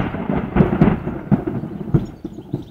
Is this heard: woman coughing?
no